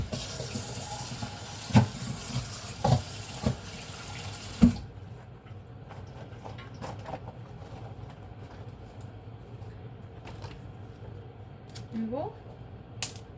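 Tap water runs steadily into a kitchen sink to cool freshly boiled food, a continuous close splashing rush with a few clunks at first, then a softer even flow.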